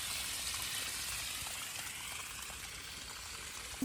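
Water runs steadily toward a bed of basella plants in a home garden, a continuous close hiss and trickle with no one speaking over it.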